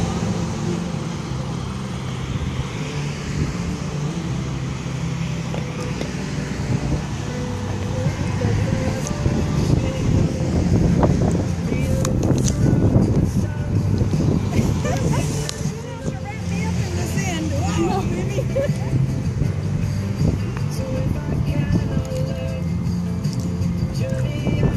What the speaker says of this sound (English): And the wind has been mean all the time.